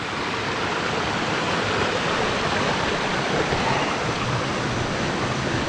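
Small river flowing beneath a bridge in a forest ravine, a steady, loud broadband rush of water running continuously without pause, close by and alone with no voices.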